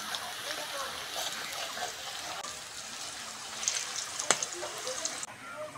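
Onions fry in a pan until crisp, like biryani fried onions, for a chicken and pea masala curry, giving a constant hissing sizzle with a few small crackles near the end.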